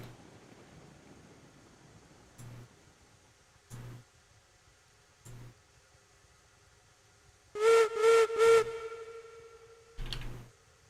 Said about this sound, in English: Whistle sounds good.